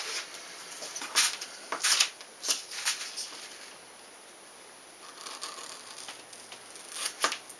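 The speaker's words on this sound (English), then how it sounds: "And now I know where to cut this." Paper template for a Thunder Bird wing being cut, with crisp close snips and rustling paper in irregular bursts, a quieter pause in the middle, then more cutting.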